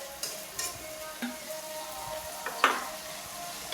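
Ground chili, turmeric, coriander and cumin fry in a pan with a steady soft sizzle, broken by a few scrapes and stirring knocks, fairly quiet and close.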